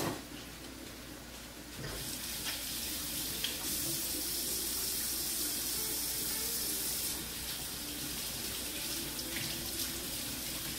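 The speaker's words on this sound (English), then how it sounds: "wash my hands, and I'll be right back" A kitchen tap runs steadily as hands are washed beneath it, with a continuous close hiss of water that swells partway through while cooking.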